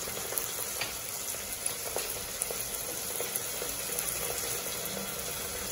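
Onion with ginger garlic paste sautéing in a pan for Chettinad egg curry, a soft, steady sizzle with faint clicks of stirring, quiet and close, with no talking.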